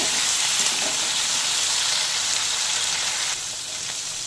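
Diced potatoes with salt and five-spice frying in a pan, making a loud, dense, continuous sizzle heard up close that eases slightly near the end, with no speech.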